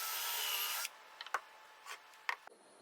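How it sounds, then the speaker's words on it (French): A screw is driven into a thin, pre-drilled wooden piece with a power drill: a steady whirring burst, then a few short, close scraping and creaking taps as the screw seats. "je vais même réussir à visser une pièce sur un support qui est très fin."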